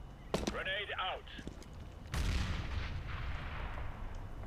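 A grenade explodes in Counter-Strike: Global Offensive. A short vocal call comes first, then a sudden loud blast follows and a rumbling tail fades away.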